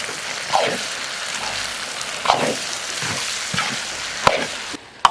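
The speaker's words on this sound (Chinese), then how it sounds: "水分炒一炒，倒入切好的梨儿，肥酒" Soybean paste and chopped pear sizzle while being stir-fried in a wok, a continuous crackling hiss broken by several scraping spatula strokes and sharp clacks against the metal.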